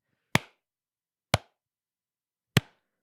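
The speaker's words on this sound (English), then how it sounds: "We're trying to sync up a clap over Skype." Three single hand claps, sharp and close, evenly spaced about a second apart in otherwise near silence, each with a short resonant tail, made to sync audio over a Skype call.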